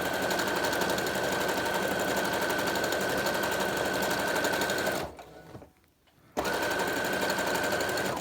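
A sewing machine runs a decorative leaf stitch through cushion cover fabric, a loud, steady, rapid whirring drone close by that slows and briefly stops about five seconds in, then resumes at full speed.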